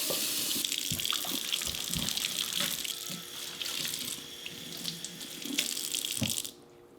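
Running tap water splashes steadily onto a HexClad pan being washed with hot soapy water. The close, continuous stream has small clatters and shifts, then cuts off just before the end.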